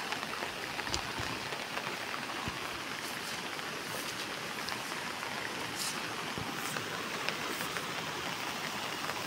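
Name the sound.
torrential rain falling in a village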